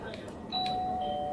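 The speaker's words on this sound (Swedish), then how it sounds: "Ja, det var ju ringklockan." A doorbell at a parking garage staff room sounds once with a sustained electronic tone, clear against steady background hum.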